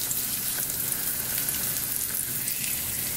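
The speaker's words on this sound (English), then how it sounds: "I'm gonna go ahead and start placing my chicken breasts in there so they should sizzle." Chicken breasts sizzle and fry in hot olive oil in a pan, a steady close crackling hiss that runs unbroken and alone, with no voices over it.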